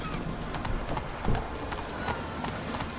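Roach the horse gallops in The Witcher 3, rhythmic clip-clop hoofbeats pounding steadily at close range for a few seconds, with faint ambient game sound behind.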